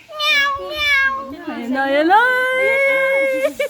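A cat at a zoo gives long, drawn-out meows, two rising cries followed by a longer wavering call, loud and close with no other sounds.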